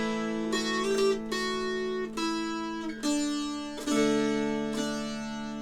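Mountain dulcimer picking a short closing phrase, bright plucked notes ringing over a steady drone, the melody moving in clear separate steps, close and alone with no talking.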